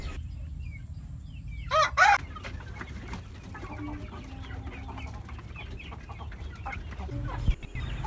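Native chickens in a yard give a short burst of loud clucking and crowing early on, then settle into quieter background rustle and faint bird sounds.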